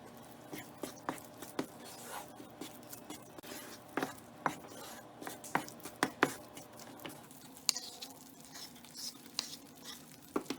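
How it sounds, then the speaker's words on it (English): All-purpose flour cooking in ghee over a low flame, a soft low sizzle under frequent scraping and tapping of a spoon stirring the pan, irregular and close. "cook the all-purpose flour in ghee on low flame until a nice aroma comes"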